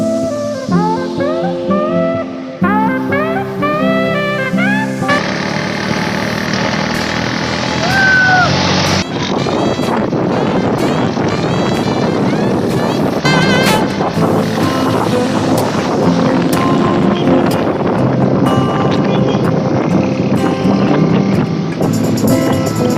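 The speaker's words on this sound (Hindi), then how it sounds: "अब्दुल वहाब और असलम दोनों भाई 70cc हुंडा मेरी बाइक पे बैठे हैं" 70cc Honda motorbike being ridden at night on a Balochistan road tour, a steady buzzing engine drone mixed with heavy wind rush across the microphone and intermittent chatter throughout.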